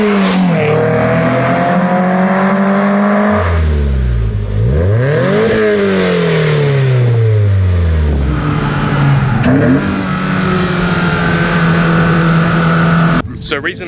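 A Toyota MR2 SW20 with a naturally aspirated 3SG four-cylinder engine and an aftermarket exhaust revs up and down repeatedly, pitch climbing and falling through several loud sweeps, with a voice talking over it.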